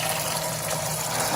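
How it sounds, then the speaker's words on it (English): Pumps draining and refilling an aquarium during a semi-automated water change, with the tank emptying faster than it fills, make a loud, steady rush of gushing water, close by and continuous, with no talk. "Now the tank is currently emptying water faster than the other pump can fill it."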